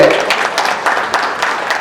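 Devotees applaud loudly during a felicitation at a free eye camp, a close, steady patter of many clapping hands with light rhythmic peaks that continues without interruption throughout.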